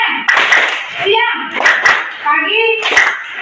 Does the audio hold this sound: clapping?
yes